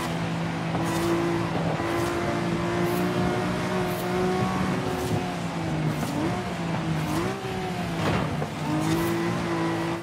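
Race car engines, a Nissan Skyline and a Toyota Supra, roar steadily in a Forza Horizon 5 race, their sustained whine rising and dipping through gear changes, with faint clicks over the top.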